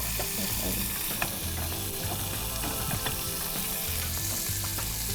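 Marinated chicken bites frying in a teaspoon of butter: a dense, continuous close sizzle with faint scraping and clicking of utensils underneath, steady throughout without speech.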